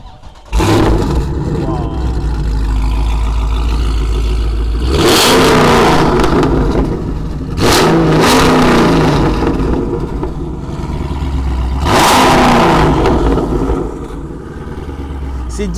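A Dodge Challenger R/T Scat Pack Widebody with a 6.4-litre HEMI V8 revs hard in three loud, close bursts, dropping back to a rumbling idle between them, while someone talks over it.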